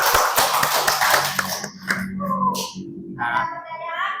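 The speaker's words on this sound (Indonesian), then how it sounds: "kita kasih tepuk tangan dulu untuk kelompok 1" Classroom applause for the first student group after their presentation: dense clapping from a small group fills the opening seconds, then thins into scattered claps with voices chatting over it.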